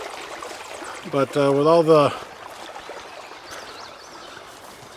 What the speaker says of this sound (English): we got a lot of water flowing on it now